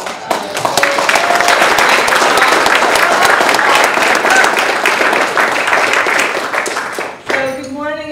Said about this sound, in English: Let's give Amanda a round of applause.